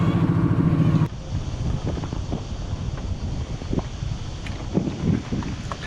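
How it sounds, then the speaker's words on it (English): Mistral wind gusting across the microphone on an anchored sailboat in a low, uneven rumble, with a louder burst at the start before settling into a steadier blustery roar. "A few gusts coming through."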